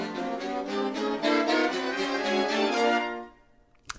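Layered chord samples from the Glory Days sample library ring out as sustained, choppy chords for about three seconds, then fade into quiet with a faint tap at the end.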